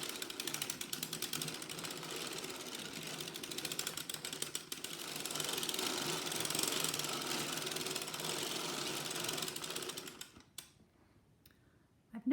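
Circular sock knitting machine being hand-cranked, a dense steady mechanical clatter of rapid ticking needles running continuously at moderate volume, then stopping abruptly into a few isolated clicks.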